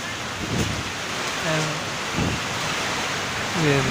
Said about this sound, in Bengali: মানে বরফ শিলা পড়ছে